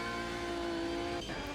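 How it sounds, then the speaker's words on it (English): GT1 race car engine revving hard out of a corner at Catalunya in Automobilista 2, a loud sustained high-rev drone with steady harmonic tones and a brief shift blip near the end, no voices. "High revs out of the corner as well."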